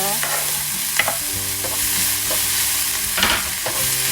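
Onions frying in about two tablespoons of oil for beef afritada, with a constant close sizzle and several stirring scrapes, while a low tonal hum runs underneath.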